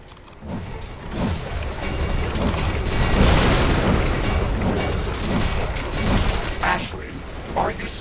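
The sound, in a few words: building destroyed explosion in video game The Riftbreaker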